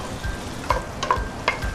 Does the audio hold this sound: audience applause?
no